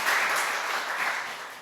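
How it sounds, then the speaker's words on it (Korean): Congregation applause at a Sunday church service retirement ceremony, a dense steady wash of many hands clapping together, loud and close, holding throughout before tapering slightly at the end. "우리 박수 한번 쳐주십시오."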